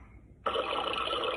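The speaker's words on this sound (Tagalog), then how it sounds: "Tubig." A water sound effect from a Yamaha keyboard starts abruptly after a short quiet lead-in and then holds as a steady, loud, broadband bubbling wash, with no voices over it.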